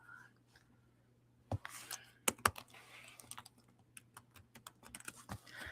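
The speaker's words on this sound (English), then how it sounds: "Let me see if I can type it in the chat" Rapid close keystrokes on a computer keyboard as a website address is typed, an irregular burst of clicks after a quiet start.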